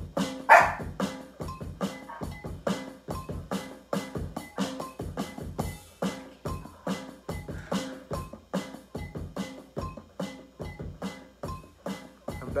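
Dog barking in a loud, steady repeated rhythm, regular barks one after another over a music-like groove throughout.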